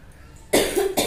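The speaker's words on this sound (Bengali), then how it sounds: "তো কাশি হচ্ছে" A single sharp cough bursts out abruptly after a quiet moment, followed by a brief second exhale, close and clear.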